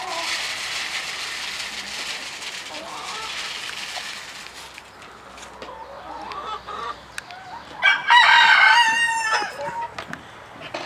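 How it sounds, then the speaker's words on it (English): A rooster named Rocky crows near a hen house, a rising and falling call with rough, strained harmonics that stands out clearly against steady background hiss resembling light rain. "There's our rooster in the background."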